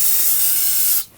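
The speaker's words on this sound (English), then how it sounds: "I want to go ahead and use some spray solvent" Aerosol solvent cleaner sprays around a brake master cylinder reservoir on the driver's side of a 2013-2019 Ford Interceptor Utility firewall, one loud, close, continuous hiss cutting off sharply after about a second.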